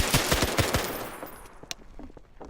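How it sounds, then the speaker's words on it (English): Bursts of automatic gunfire in a roleplay video game, several rapid shots close and loud at first, then thinning to a few scattered, fainter shots. "Hey, we're under fire!"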